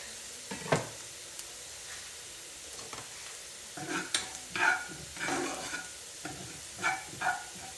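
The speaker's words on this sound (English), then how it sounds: "Give this a little stir." Minced garlic sautés quietly in a pan beside green peas, a soft low sizzle punctuated by irregular spoon scrapes and stirring bursts, fairly close and with no talk.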